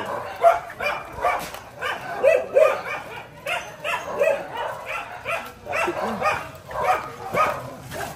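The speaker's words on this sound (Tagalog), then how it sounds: "May mga aso nga eh." Several dogs bark and yip repeatedly, at moderate distance, in an irregular chorus of short barks with a few whimpers mixed in, and some background voices.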